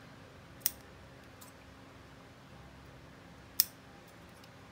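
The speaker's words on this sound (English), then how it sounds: "I think I'm going to use these scissors to cut a little V" Scissors cut a V into the tails of a craft ribbon, giving two crisp, isolated snips a few seconds apart over a quiet background.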